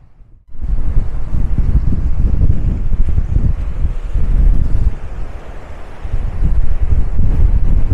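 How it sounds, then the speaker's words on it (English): Strong wind buffets the microphone on the rugged, moody coast at Hartland Quay in Devon, with big ocean waves roaring in a loud, continuous rush after a sudden start. "There's some wonderful big waves as well."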